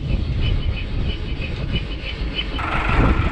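A sailing yacht's inboard engine on an old restored boat catches and settles into a steady idle, a low continuous rumble close by, with a louder shift near the end.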